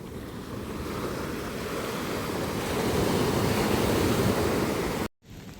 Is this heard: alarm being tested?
no